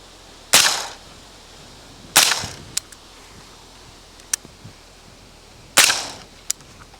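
Rifle rounds fired through a Shaw Armament Azimuth GRT 556 suppressor, three sharp suppressed reports spaced a few seconds apart, each with a brief tail, plus fainter clicks and taps between them.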